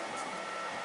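A 3D printer works through a long print of a figure, giving a steady, loud mechanical whir and hum that stays even throughout, with no voices.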